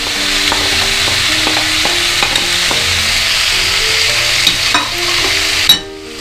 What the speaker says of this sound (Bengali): এবার সমস্ত সবজি মশলা তেলের মধ্যে ভালো করে মিশিয়ে নিতে হবে।